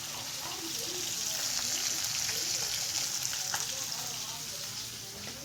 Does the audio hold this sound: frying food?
yes